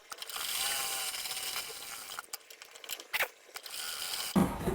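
Sewing machine running a line of stitching on a princess-cut blouse, faint mechanical whirring with clicking, ratchet-like bursts that start and stop over a few seconds.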